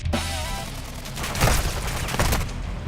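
Gunfire in a video game played on an AMD Ryzen 7000 gaming laptop, with several loud close shots and impacts as the player gets hit, over a busy game soundtrack.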